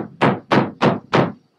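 Four hard, heavy knocks pound on a great big oak door in an evenly spaced rhythm, loud and close, each a deep thudding blow.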